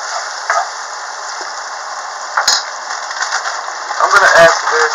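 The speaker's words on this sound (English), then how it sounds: "the onions have started to cook into this" Onions frying in a pan, a thin, steady bright sizzle throughout with a few stirring clatters, growing louder toward the end as the contents are moved around.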